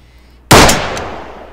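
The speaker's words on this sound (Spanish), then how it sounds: "¿Escuchan mi disparo?" A single loud, sharp unsuppressed gunshot blast in the video game Arma 3 that cracks suddenly and then decays into a lingering echo.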